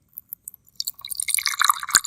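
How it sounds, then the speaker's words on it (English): Water poured from a container into a glass beaker holding a rehydrating chemical sample: a few soft drips first, then a trickling, bubbly pour that swells and ends in a small splash, near and clear. "So I'm going to add more water to it."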